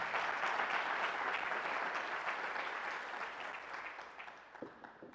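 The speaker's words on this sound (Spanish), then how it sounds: "Vamos a dar una ofrenda de palmas." A church congregation breaks into steady applause, the clapping full at first and then gradually thinning and fading toward the end.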